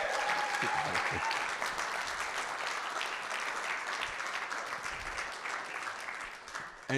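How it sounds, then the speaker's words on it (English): A lecture audience gathered for an inaugural professorial lecture claps warmly and continuously for several seconds, a dense wash of applause that thins slightly toward the end. "please, if I could get you to put your hands together"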